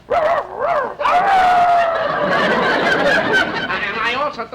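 A man imitates a small dog with a string of yips, barks and whimpering whines, loud and close, rising and falling in quick bursts.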